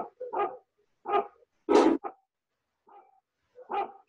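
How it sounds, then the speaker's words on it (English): Household dogs bark in a few short, separate woofs, spaced irregularly over several seconds, moderately near and fairly quiet, with silence between the barks and no talking. "My niece got home, so that's why they're barking."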